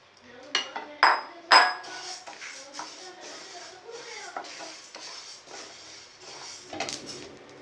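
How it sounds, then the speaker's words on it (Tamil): Pearl millet and raw rice dry-roasting in a pan, crackling with scattered sharp pops and clicks, a few louder bursts early on, over soft scraping and stirring close by. "நல்லா பொரியுது பாருங்கள் படபடன்னு"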